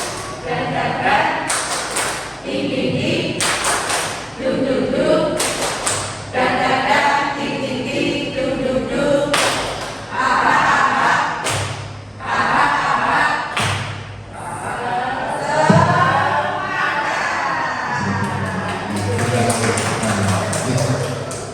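Group rhythmic clapping routine, tepuk semangat, at a school positive-discipline dissemination event: loud patterned claps in bursts with pauses, mixed with chanting voices and talk.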